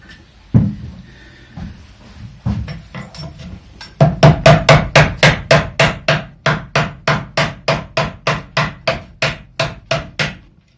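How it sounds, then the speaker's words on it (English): Repeated sharp hammer blows on a chisel carving into the wood of a custom guitar, a few scattered strikes at first, then a steady, evenly paced run of loud knocks close by. "just force in with the chisel"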